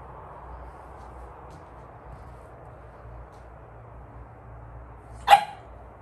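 A single dog bark rings out near the end after a stretch of quiet low hum, one short sharp bark at moderate distance.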